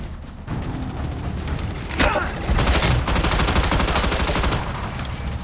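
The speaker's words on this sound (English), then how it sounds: "Chesapeake engaged in ship-to-ship combat." Naval gunfire in ship-to-ship combat aboard the Chesapeake in the Battleship video game, with loud rapid bursts of firing and booms that hold as a dense, continuous barrage.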